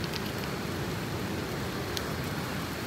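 Steady rain falls in a jungle, a dense continuous hiss with occasional sharper drops, fairly close and unbroken, with no talking.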